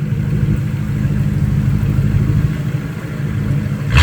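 A Mercedes SL R230 with a 5.0-liter V8 rumbles with a deep, steady exhaust note at close range, idling loud and even, then swelling briefly at the very end.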